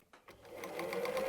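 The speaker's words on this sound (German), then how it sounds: "und nähen den Streifen mit einem Viertel-Inch Nahtzugabe ab." Domestic sewing machine stitching a fabric strip for a Christmas star patchwork, a fast steady whirring and rattling run that starts up after a brief pause and grows louder, close by and fairly quiet overall.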